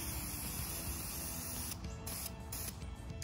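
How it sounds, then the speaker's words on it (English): Olive green camouflage spray paint hissed from an aerosol can onto a planter, a quiet steady spray that breaks into short bursts in the last part. "Why do I have camouflage spray paint?"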